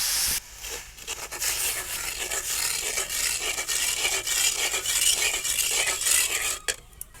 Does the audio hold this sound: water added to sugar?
yes